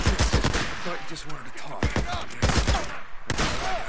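Rapid gunfire in Days Gone, with dense bursts of sharp close shots, some automatic, crackling over a steady din while someone speaks briefly in the middle.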